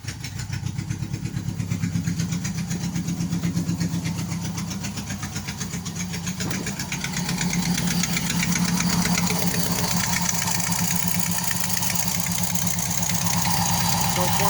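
A 1988 Nissan Sentra with an E16i engine and starting and running problems idles close by, a low rhythmic chugging pulse that holds steady and swells slightly louder partway through.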